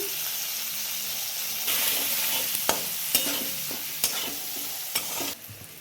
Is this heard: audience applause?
no